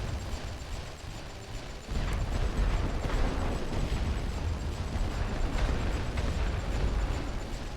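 Rumbling artillery shell explosions in The Great War: Western Front, a World War I strategy game, with a quieter opening and then a continuous loud, dense roll of blasts.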